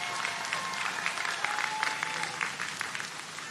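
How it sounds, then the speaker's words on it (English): Applause from the crowd at the Guttman Community College commencement ceremony, a broad, sustained roar of many hands clapping at once, even and unbroken, heard from within the audience. "So if we could get another round of applause for Brad,"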